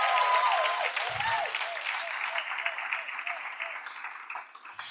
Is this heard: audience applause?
yes